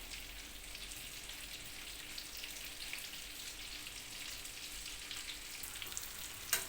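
Meatballs frying in oil in a pan, a steady soft crackling sizzle that runs evenly throughout with a small clatter at the very end.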